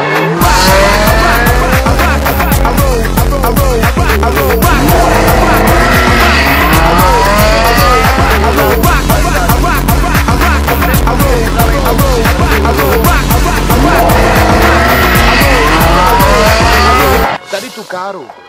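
A Ferrari sports car driven hard, engine roaring loudly and continuously with repeated tire squeals and skids throughout, cutting off abruptly near the end.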